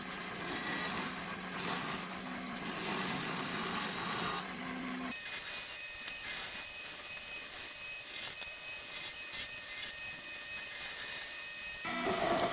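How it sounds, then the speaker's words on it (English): A wooden tool handle spins on a lathe, shaped first with a roughing gouge and then a skew chisel, giving a steady whirring, scraping drone that changes character partway through and holds a faint high tone. "Doing a little shaping with the roughing gouge, and then switching over to a skew chisel."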